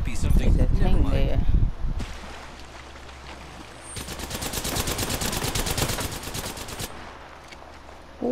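Automatic weapon fire in Apex Legends, a loud nearby burst fading into a steady rapid rattle of shots lasting a few seconds, with game ambience around it and voices talking over parts.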